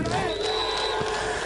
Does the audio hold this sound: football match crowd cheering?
yes